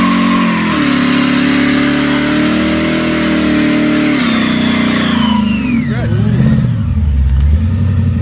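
A muscle car's engine revs hard and steadily during a burnout, with the drone shifting pitch and tailing off into rougher rumbling near the end. The sound is loud and close.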